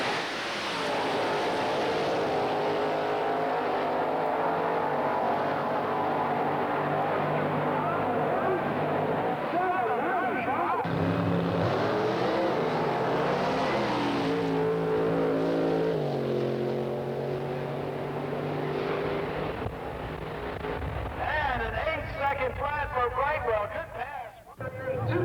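Big-block Chevrolet drag racing car from the 1987 era launching off the line, a loud sustained engine roar with shifting pitch that rises and changes through the run, heard under continuous commentary.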